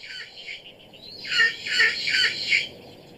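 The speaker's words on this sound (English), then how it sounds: "Only when they stop squawking at each other do the two rivals realise Ox has gained an advantage." Two rival kakapo parrots squawk at each other in a run of four loud, harsh calls that overlap into a noisy bout, close by with no talking.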